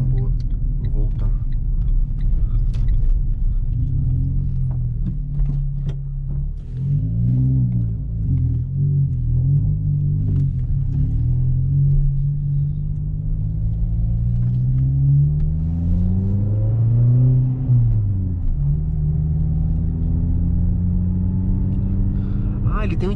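A Renault Sandero RS engine drones steadily from inside the car while driving and turning. The revs swell and fall several times, with a noticeable climb near the end, under a continuous low rumble.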